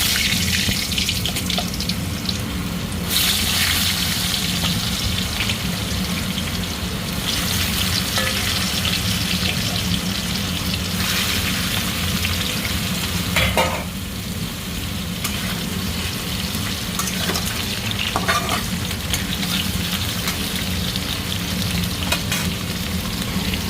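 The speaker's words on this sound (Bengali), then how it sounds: "ওলগুলো দিয়ে দেবো, বড় বড় পিস করা," Large pre-boiled pieces of elephant foot yam sizzle in hot oil with a bay leaf in a home kitchen, a steady close frying hiss with occasional stirring clatter, running alone for over twenty seconds.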